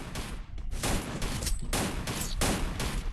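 Video game gunfire pours out in loud, nearly continuous rapid bursts of automatic fire with only brief gaps between volleys, close and dominant, with no talking over it.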